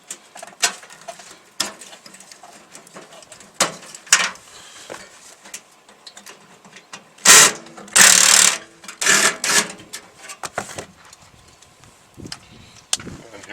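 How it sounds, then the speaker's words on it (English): A thermocouple is pulled out of a microwave during a teardown, with close intermittent clicks, metallic scrapes and rattling bursts of parts being handled, separated by quiet gaps. "Let's pull out this other thermocouple."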